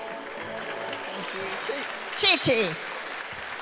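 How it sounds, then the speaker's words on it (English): Audience applause at a 2014 RYEMT program gathering as a foreign guest comes on stage, a steady wash of clapping that swells briefly near the end, with a voice speaking over it. "Let's give her a round of applause."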